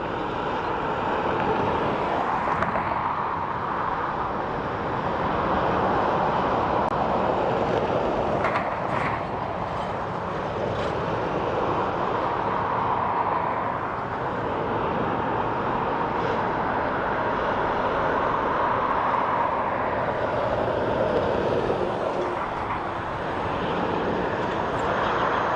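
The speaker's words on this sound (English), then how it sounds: "So this is an ATR 72-600 operated by Emerald Airlines as part of Aer Lingus." An Emerald Airlines ATR 72-600 airliner operated for Aer Lingus landing at Dublin Airport, a broad steady turboprop roar at a distance that swells and eases slightly over its length, with no talk.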